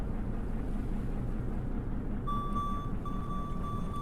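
Ship engines in the Stormworks game run at full ahead on the research vessel R/V Calypso, a steady low broadband rumble that stays constant throughout, with a sustained alarm-like tone joining partway through.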